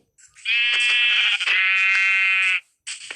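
A sheep in the Minecraft video game gives one long, loud, wavering bleat lasting about two seconds, then starts a second short call, with nothing else underneath.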